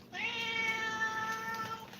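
A cat's single drawn-out meow, close and clear, rising then holding steady before trailing off, heard alone with no talking.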